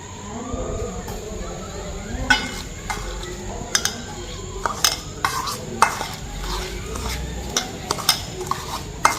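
Spices are tempered in hot oil while a metal spoon scrapes and clinks against the pan in irregular bursts over a faint sizzle, and a voice speaks quietly in the background.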